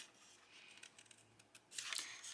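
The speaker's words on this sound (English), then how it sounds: "how can you cut this stuff, how can you move your scissors and get in those small niches" Scissors snip through paper in a run of small, quick cuts close by, ending in a longer, louder slicing stretch.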